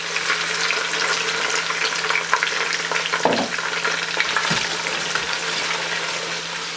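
Liver frying in a karahi with ginger garlic paste and tomatoes gives a steady, fairly loud sizzle throughout, with a couple of brief stirring scrapes partway through and no voices.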